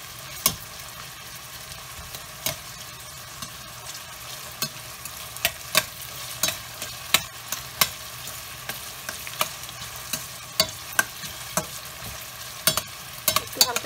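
Fish frying in a pan until lightly browned, giving a steady sizzle with scattered sharp crackles and pops spread through the whole stretch, close and fairly quiet, with no one talking.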